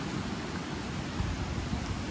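Heavy monsoon rain pours down along the Mumbai–Goa highway, a dense, steady hiss with no breaks, fairly close and unaccompanied by talk.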